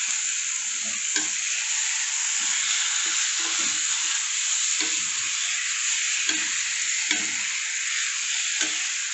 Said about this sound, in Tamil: சிக்கனில் நல்லா மசாலா படுறாப்புல நல்லா கிளறி விட்டுக்கலாம்.